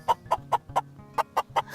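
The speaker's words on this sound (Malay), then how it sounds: "Aku ingat ayam betul-betul tadi" A chicken sound at a Dusun house exhibit in Brunei gives eight short, evenly spaced clucks in a steady rhythm, fairly quiet and heard on its own.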